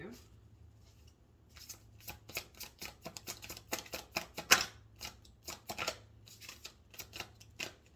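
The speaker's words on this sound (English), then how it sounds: "I did a full shuffle and nothing came out" Tarot cards riffle and snap in quick bursts, a brisk shuffle close to the microphone with soft pauses between flurries.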